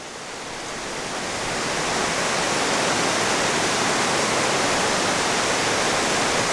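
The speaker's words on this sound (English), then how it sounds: "This is Slide Creek Falls. And it goes down a slide, basically a natural, solid rock water slide." Slide Creek Falls pours down a long natural solid-rock slide, giving a steady, loud, full rushing roar of water that swells in over the first two seconds and then holds constant with no voices.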